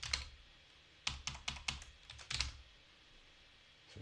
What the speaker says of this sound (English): so you can hear me typing.